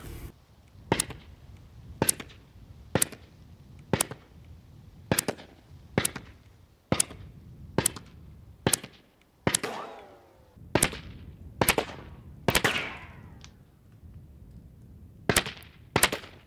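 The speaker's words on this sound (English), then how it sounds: "the XCR-M with a good suppressor, we have a Liberty Precision right here, just sounds great and is very quiet." Suppressed shots from a Robinson Arms XCR-M rifle fitted with a Liberty Precision suppressor, heard from downrange as a steady series of sharp, loud cracks about a second apart, with short echoing tails and a few gaps.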